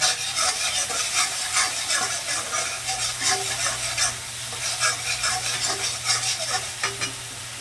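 Spice masala with turmeric and Kashmiri chilli powder frying and being stirred in a pan: steady close sizzle under repeated scraping strokes of a spoon, with no voices.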